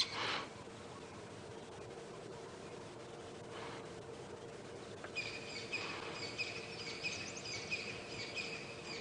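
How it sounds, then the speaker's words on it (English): Birds call at sunrise in the African bush on a safari drive, faint chirps and a brief sharp call early on, then a steady high trilling sets in over soft insect hum and open-air hiss. "listening to all of the beautiful bird calls"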